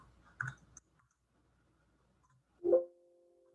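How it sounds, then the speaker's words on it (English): A short burst of computer keyboard clicking near the start, then quiet, followed by a single louder tap with a brief ringing tone. "You can tell my typing is not very good."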